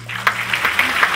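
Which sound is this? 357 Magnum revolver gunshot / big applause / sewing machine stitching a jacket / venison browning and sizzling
big applause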